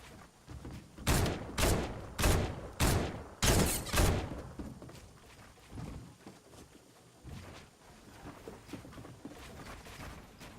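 Gunfire in a video game build fight, with a rapid series of about six loud, evenly spaced shots followed by quieter, sparser shots and game sounds, no speech.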